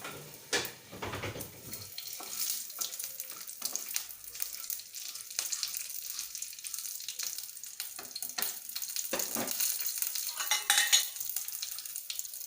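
Onion and green chili frying in a little oil for paneer do pyaza, a steady close sizzle with stirring scrapes and occasional clatter, moderately loud and continuous throughout.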